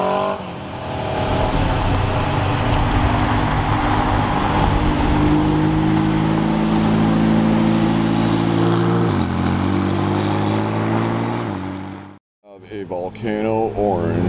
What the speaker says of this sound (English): Now we have a McLaren showing up.